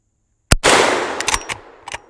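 Henry lever action rifle fired at targets on an outdoor shooting range: one sharp, loud crack followed by a long rolling echo, with a few more impacts and clatters trailing off.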